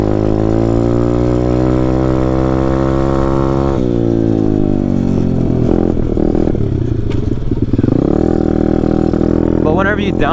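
Taotao DB17 125cc pit bike engine running steadily, then dropping pitch as it downshifts, loud and close with clattering and scraping from the ride.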